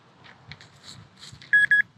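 A metal detector in dark woods gives two short, bright tones in quick succession as it rings up on a buried target, preceded by faint scrapes and rustles close by.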